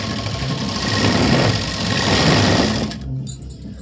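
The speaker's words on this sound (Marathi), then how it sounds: "एक कडेला शिलाई द्या. एक 1/2 इंचावरती शिलाई द्या." Sewing machine running a line of stitching along a fabric edge, a loud close whirring hum that holds steady, then stops with a few mechanical clicks.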